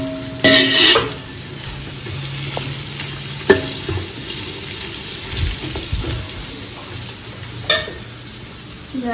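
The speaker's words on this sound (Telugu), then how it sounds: "అప్పుడు మటన్ ఇవన్నీ కూడా బాగా దోరగా వేయాలి." Mutton pieces sizzle while frying in a pot for masala mutton pulao, a constant hiss broken by a few sharp clanks and scraping stirs of a utensil against the pot.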